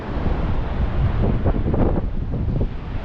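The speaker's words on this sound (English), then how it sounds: "I'll get behind this bit of wood. Keeps out the wind a bit." Wind buffets the microphone on a beach headland on the coast near Sheringa Beach, a loud, continuous low rumble and roar with gusty swells, no talk.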